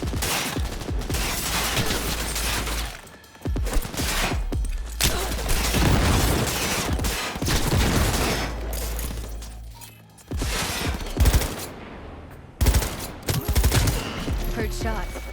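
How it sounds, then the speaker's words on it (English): Gunfire from a shootout in the video game Cyberpunk 2077: dense bursts of rapid shots and booming blasts, loud and close, pausing briefly a few times before resuming. "Heard shots."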